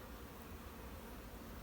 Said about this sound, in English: some of these little bunches of bees to make sure she's not hiding down in those